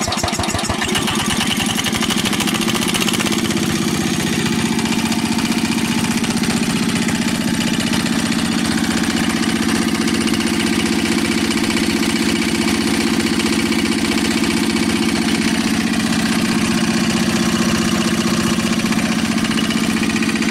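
A small 1950s-style tractor engine runs at a steady idle throughout, a constant throbbing hum close by with no pauses.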